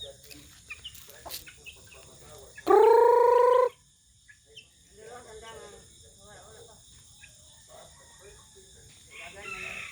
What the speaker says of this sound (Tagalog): Patukain ko muna yung manok guys bago ako umalis.